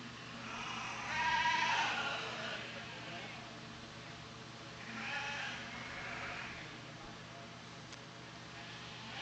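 A Dorper ewe lamb at a livestock show bleats twice, a wavering call near the start and a softer one midway, heard over steady hall murmur and background voices.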